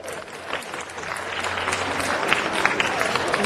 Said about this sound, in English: Give Flavio a round of applause